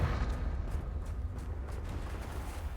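A Confringo blasting spell cast in Hogwarts Legacy, a heavy rumbling burst with a booming low-end roar that rolls and fades over a few seconds.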